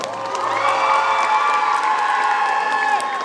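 At a cosplay contest in Lorient, an audience applauds and cheers loudly for a few seconds, with shouts and whoops rising over a dense crowd roar.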